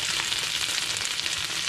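Beef strips fry in a pan for a stir-fry noodle dish, giving a steady, close, bright sizzle that holds evenly throughout with no voices.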